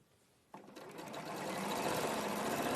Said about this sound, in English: I'm sort of sewing that onto the centre of in between the 2 blocks